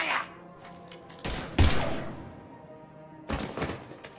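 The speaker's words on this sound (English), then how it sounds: "Now open fire!" Gunfire erupts in the video game Mass Effect 3, with a few loud broadband bursts and thumps separated by short gaps, the strongest around the middle and another burst near the end, with faint voices in the background.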